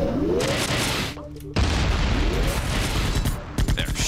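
Bursts of video game gunfire from Iji pop in a rapid volley, stop for a short pause, then resume loud and close, with booming impacts mixed in.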